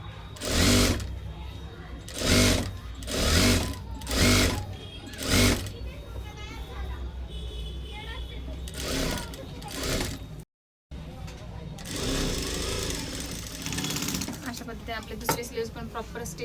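A domestic sewing machine stitches a blouse sleeve in bursts of steady whirring, the bursts broken by short pauses and one brief dropout, while someone talks over much of the work.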